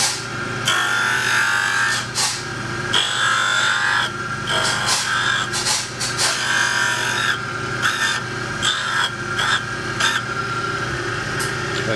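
A cap cutter machining an engine main bearing cap on a Suzuki GSX block, removing a few thousandths from the housing bore: a continuous scraping, rasping metal-cutting noise with small bursts and shifts, close and steady with no talk.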